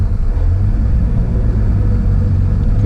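A restored 1950 Studebaker Champion Starlight Coupe drives along with a steady, loud low engine rumble and road noise, smooth and even in level throughout.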